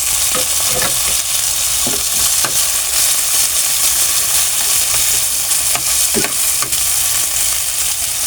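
Tomatoes tumble into garlic and onion sautéing in a pan for Filipino ginisang monggo with smoked fish, giving a steady close sizzle broken by scraping stirs and soft clanks of the utensil, with no talking.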